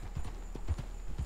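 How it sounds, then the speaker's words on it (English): Horse hooves clip-clop in Red Dead Redemption 2, a few steady low thuds spaced evenly across a short stretch, fairly close and alone without talk. "Oh, there's a horse."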